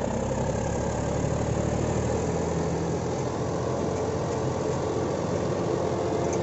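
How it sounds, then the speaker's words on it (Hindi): A tractor engine labours steadily under load while soil is being loaded, a constant close, rumbling drone with a slight knock and no pauses. "भाइयों, ट्रैक्टर पे जोर पड़ा"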